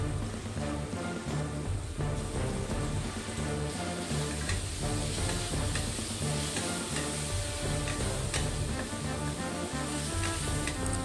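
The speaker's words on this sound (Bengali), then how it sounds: "হলুদ দিয়ে ওটাকে ভালো করে একবারে নাড়িয়ে চাড়িয়ে" Ginger-garlic masala fries loudly in oil as turmeric is stirred through, a dense sizzle layered with busy, repeated scraping and stirring strokes close to the pan.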